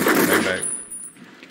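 Burst of machine gun fire from a movie gunfight scene, loud rapid shots in the first half-second, then fading into a decaying echo and quiet room tone.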